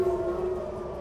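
Civil defense air-raid siren sounding in Tehran during an attack, a sustained steady wailing tone heard alone, loud and close.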